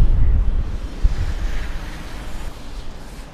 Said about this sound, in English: that's so windy.